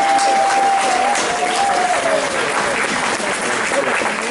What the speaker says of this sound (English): He deserves a better round of applause than that.